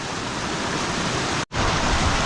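Steady broadband rush of river water flowing at a trail river crossing, loud and continuous with no voices, briefly cutting out for an instant midway.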